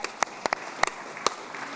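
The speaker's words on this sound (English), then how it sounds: "Let's give her a round of applause." Conference audience applauds, soft steady clapping with several loud nearby individual claps standing out in an uneven rhythm, fairly short.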